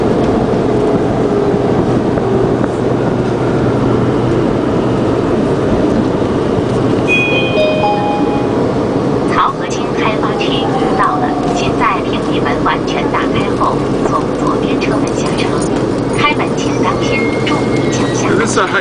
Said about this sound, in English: And that's the subway.